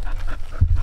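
A dog pants quickly and close up while out camping near Tahoe, with a few rapid breaths and a brief thump at the end.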